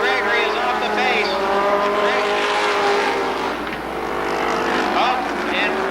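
Several race cars lap Columbus Motor Speedway with high engine whines rising and falling as they pass, a dense constant roar with brief tire squeal, while an announcer keeps talking over the noise.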